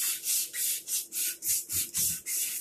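Wood being sanded by hand, about seven steady back-and-forth rubbing strokes in an even rhythm, close and fairly loud, with no talking.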